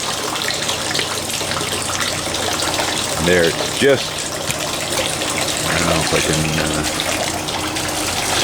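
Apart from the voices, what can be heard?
water flowing in a garden water feature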